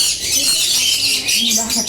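A pair of pet birds squawks and chirps in quick, shrill bursts close by, overlapping a person talking nearby.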